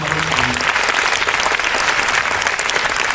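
An audience at a full-length stage play claps loudly for the performers, a dense, even roar of many hands sustained throughout.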